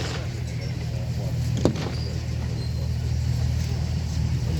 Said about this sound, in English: Here they come. Churchill Mark III, packing a 6-pounder.